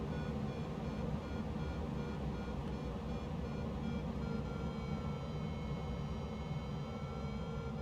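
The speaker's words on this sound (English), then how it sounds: "Those wonderful little beeps that say we're climbing." Glider variometer in a flight simulator game sounds a steady series of high electronic beeps signalling a climb, over a constant low engine-like drone and wind hiss, with no talking.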